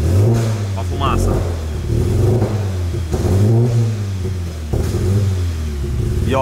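A Stage 4 tuned VW Golf GTI MK7 engine, said to have throttle body knocking, revs up and falls back in repeated blips with a rough, rattly edge, while someone talks over it close by.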